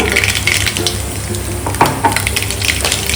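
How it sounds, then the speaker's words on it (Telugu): Mustard seeds spluttering in hot oil for a pickle, loud continuous sizzling broken by sharp popping crackles and a few scraping stirs, close up with no talking. "ఆయిల్ వేడైపోయిందండి ఇప్పుడు హాఫ్ టేబుల్ స్పూన్ ఆవాలు వేస్తున్నా"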